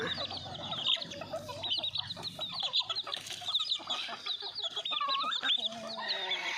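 Crossbred backyard chickens cluck and chatter close by, a busy overlapping flock of short calls and squawks with a few louder cries, rising and falling throughout without talk.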